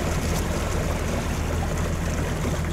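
A fishing boat's outboard motor idles as a steady low rumble, mixed with the rush of water against the hull, constant and close throughout.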